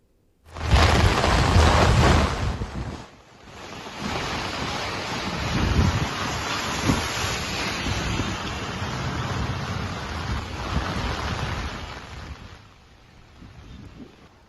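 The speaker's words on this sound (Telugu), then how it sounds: "ఈ లోపే జోరువాన కురుస్తోంది." Heavy rain pours down in Hyderabad, a dense, steady roar of falling water with gusty wind buffeting the microphone, loudest at the start and then holding constant to the end, with no voices.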